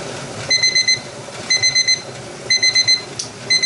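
A kitchen timer goes off while a pot sits on the stove, beeping in four quick bursts of high electronic tones, the pattern repeating about once a second, loud and clear over quiet room noise.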